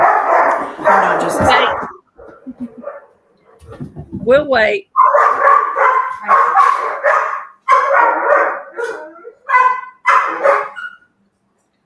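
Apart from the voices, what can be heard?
dogs barking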